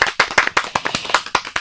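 A small group claps at an episode of an educational children's programme, a brief burst of about a dozen sharp, close hand claps in a quick uneven rhythm, with no talking.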